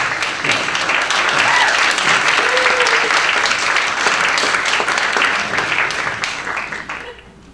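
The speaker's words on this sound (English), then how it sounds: "Clap your hand." Audience at a queer history panel discussion in an art gallery breaks into sustained, dense applause that holds steady, then fades out at the end.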